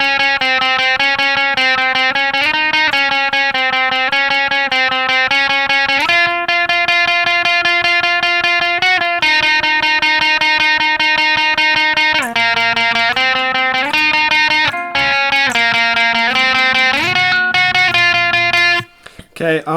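Distorted electric guitar playing the lead part of a song, a sustained melodic line of held notes and slides, loud and close, played alone without talk and cutting off abruptly at the end.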